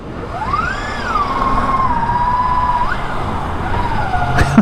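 A 2016 Victory Empulse TT electric motorcycle accelerating, its motor whine rising and falling in pitch as it pulls away, loud and steady, ending with a short sharp knock.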